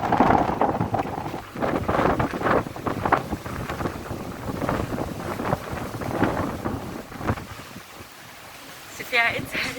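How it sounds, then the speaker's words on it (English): Gusty wind blows outdoors, buffeting the microphone in loud, uneven rumbling bursts that come and go, with someone talking underneath. "It's so windy outside."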